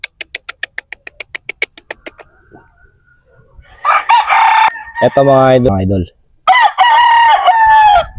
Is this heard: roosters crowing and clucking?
yes